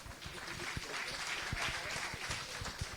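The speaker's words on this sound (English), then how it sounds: "It starts with the rain and it goes into a full clap" An audience at an event about solar panels in Bangladesh applauds steadily in a sustained wash of clapping, with a few sharper individual claps near the front.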